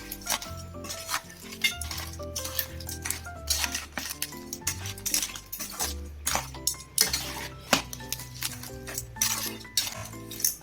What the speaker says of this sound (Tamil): இப்போ இதை வந்து நல்லா கலந்து விட்டுடலாம்.